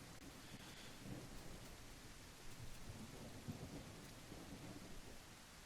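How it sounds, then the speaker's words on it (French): Steady rain with rolling thunder in The Isle, a prehistoric jungle survival video game; a constant dense wash of rainfall with low rumbles swelling through, fairly quiet overall and with no one talking. "Le bruit de la pluie est un peu casse-couille."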